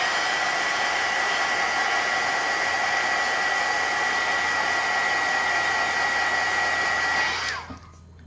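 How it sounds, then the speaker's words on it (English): A hair dryer blows steadily to dry gesso on small mixed media cards, a loud, continuous close whoosh that runs alone for several seconds before being switched off near the end. "I'm going to dry this gesso real quick."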